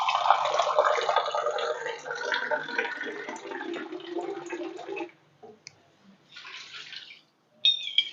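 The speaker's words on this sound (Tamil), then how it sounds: "நான் வந்து ரெண்டு கப்பு தண்ணி ஊத்துறேன்" Water poured from a cup into a pan of roasted-and-ground chicken gravy, a bright steady splashing pour lasting about five seconds, then quiet with a couple of brief sizzling or clinking bursts afterward.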